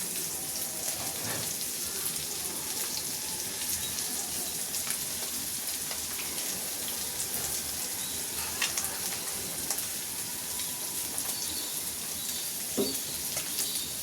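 Spice-coated beef brain fries steadily in hot oil after being flipped, giving a continuous bright sizzle with scattered crackles and pops throughout, close and even in level.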